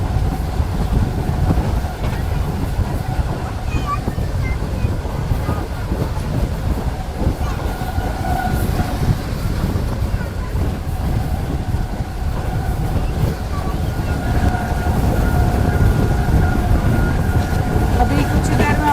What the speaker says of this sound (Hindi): 106 107 किलोमीटर फी घंटा की रफ्तार से जा रही है गाड़ी अब